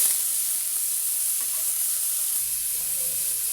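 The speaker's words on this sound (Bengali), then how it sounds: "গাজরটা হালকা ভেজে নেব।" Carrots fry lightly in butter in a wok, giving a loud, steady hiss and sizzle that carries on continuously for a few seconds, with a faint scrape of stirring and no voices.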